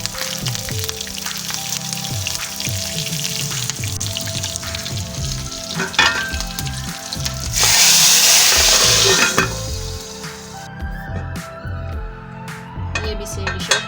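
Chillies for tempering chickpeas sizzle and crackle in hot oil, with a loud burst of frying when they go into the pan, then softer sizzling and occasional utensil clinks.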